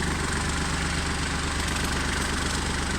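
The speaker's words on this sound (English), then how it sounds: "Come round, start your tractor up," A Kubota tractor with a front loader idles steadily nearby, a loud, even diesel rumble with a rhythmic knocking throb and no talking.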